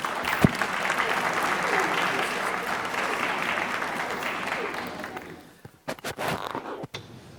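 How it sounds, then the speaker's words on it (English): An audience at a city council meeting applauds representatives with sustained loud clapping that fades out near the end, followed by a few scattered sharp knocks and thumps. "Let's give this month and all our representatives a round of applause."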